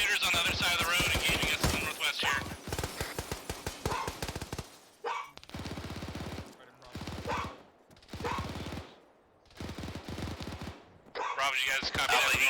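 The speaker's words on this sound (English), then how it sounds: "We got shooters on the other side of the road engaging us to the northwest here." Gunfire from shooters across a road during platoon infantry training, rapid bursts of loud close shots in dense clusters separated by short pauses, with voices shouting between volleys.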